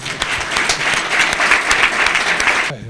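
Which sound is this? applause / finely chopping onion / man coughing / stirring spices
applause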